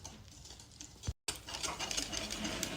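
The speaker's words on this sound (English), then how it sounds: "Grab a whisk to then mix thoroughly until smooth." A whisk beats milk and egg into pancake batter in a bowl, giving rapid, light clinking and scraping strokes, fairly close, with a brief pause before the quick rhythm resumes.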